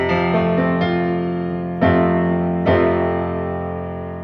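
A piano sounds a chord from a song, with the thumb on A, the pointer on C and the pinky on F. Three separate attacks ring out close and clear, each left to sustain and fade.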